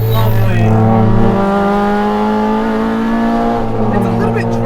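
A Honda Civic Type R FN2 with a K-series engine revs hard nearby in a loud, steady drone. The pitch climbs smoothly and then eases back, and a voice can be heard under the engine.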